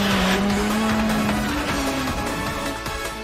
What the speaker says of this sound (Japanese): このバトルで初めて繰り出すフェイントモーションからのこのアグレッシブなドリフト